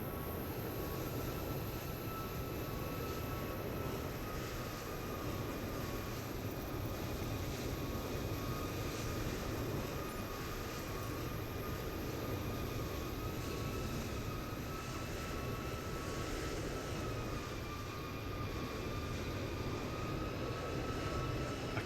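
Aircraft engine in Microsoft Flight Simulator taxiing on the ground, a steady droning hum with a constant whine running evenly throughout, moderately loud and unbroken, no voices.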